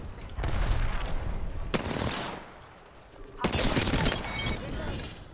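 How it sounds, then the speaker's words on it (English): Repeated grenade blasts and bursts of gunfire in the battle royale game Apex Legends, dense and loud, with a heavy explosive surge near the end; players talk over it. "That's a lot of grenades."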